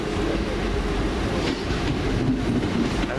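A class 323 electric train pulling out of Crewe station, a steady rumbling roll with faint rhythmic wheel clatter, close and continuous with no voices.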